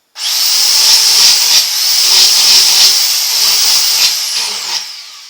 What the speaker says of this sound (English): I'm going to use this handy little tool right here, belt sander.